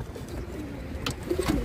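Pigeons coo softly and repeatedly at close range, low throaty calls over a faint background murmur.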